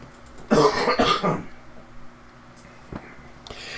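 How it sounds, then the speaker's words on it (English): A man on a livestream coughs twice in quick succession, close and loud, then a short quiet stretch with a faint click. "I got a cough, excuse me."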